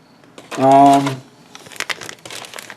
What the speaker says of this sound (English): This is the big Ziploc bag. Take this out.